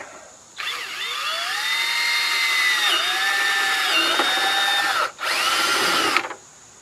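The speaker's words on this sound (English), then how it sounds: "before you drill your holes" A power drill drills holes for mud flaps on a Polaris RZR 900 XP, whining steadily at close range for several seconds, its pitch dipping slightly under load, then stops briefly before a second short burst.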